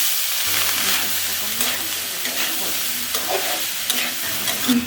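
Rice fries in ghee with a bay leaf and three split cardamom pods, a close, steady sizzle broken by repeated scraping stirs, with a low hum joining in early on.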